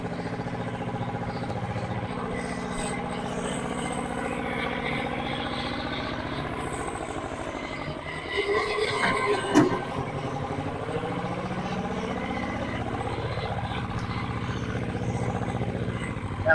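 A 1962 Hustler articulated four-wheel-drive truck runs with a steady mid-pitched engine drone that rises and shifts in pitch as it approaches and passes close by, then settles back to a constant running hum.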